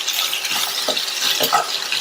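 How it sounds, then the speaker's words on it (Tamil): Okra frying in hot oil over a low flame, a steady soft hiss with occasional stirring clinks and scrapes in the pan. "எண்ணெய் சூடானதும் வெண்டைக்காயை சேர்த்துட்டு நிதானமான தீயில வச்சு இந்த வெண்டைக்காயை அப்படியே ஃப்ரை பண்ணிட்டே இருக்கணும்"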